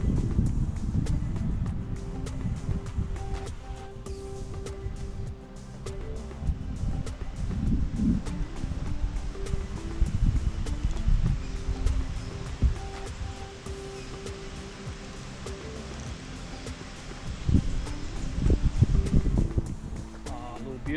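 Steady wind blowing outdoors at an estuary creek at St Georges Basin near Jervis Bay, buffeting the microphone with low rumbling gusts that swell and ease throughout, no voices.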